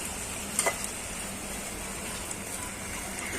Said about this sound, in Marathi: काळा करायचा नाही. गोल्डन कलर, सोनेरी कलर येईपर्यंत त्याला परतत राहायचं.